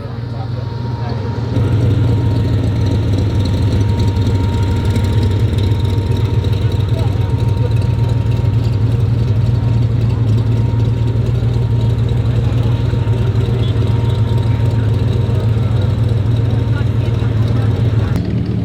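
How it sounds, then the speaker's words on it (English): Motorcycle engines idle at an outdoor summer classics and exotics car show, a steady low rumble holding for the whole stretch, near and loud, with people talking over it. "motorcycles."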